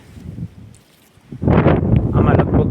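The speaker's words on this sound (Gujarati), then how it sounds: "બહુ પવન છે" Strong wind over a pigeon pea field buffets the microphone in a loud, rough roar that surges in after a quieter, murmuring start and keeps blowing to the end.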